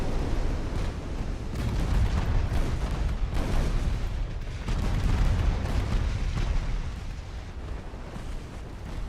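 Heavy, rumbling explosions from torpedoes striking warships in a naval video game, a continuous barrage of booming blasts swelling and overlapping for several seconds with no clear pauses.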